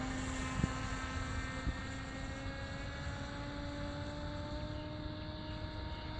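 A 1.5 m RC flying wing with an underpowered 3-cell electric setup drones past at full throttle, a steady propeller whine with a slowly falling pitch that holds throughout, fairly loud, with no talk.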